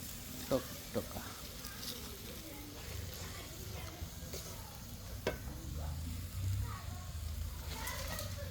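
Country chicken curry sizzles steadily in a pan over a clay stove, with occasional clicks and scrapes as it is stirred.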